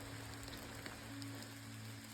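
Steady rain falls on the Appalachian Trail at Hog Pen Gap, a constant soft patter of drops at moderate distance with a low steady hum underneath and no voices.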